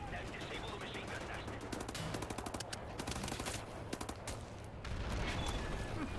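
Rapid bursts of machine gun fire rattle through a loud, dense battle mix in the shooter game Wolfenstein: The New Order, with other combat noise around them.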